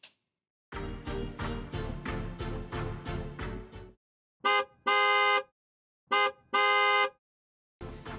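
A car horn honks in a steady series of short blasts at first, then pauses and gives a few longer, loud separate honks, sounding close and alone.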